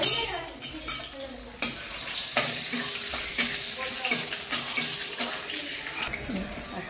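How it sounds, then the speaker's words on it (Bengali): Three whole dried red chilies dropped into hot oil, crackling and sizzling up close, with sharp spatula knocks and bursts of spitting over a continuous frying hiss. "শুকনো লঙ্কা আমি গোটা দিয়ে দিলাম।"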